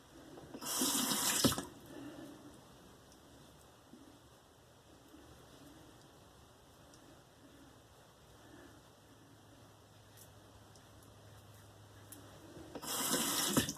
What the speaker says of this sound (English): Make sure you rinse your razor regularly.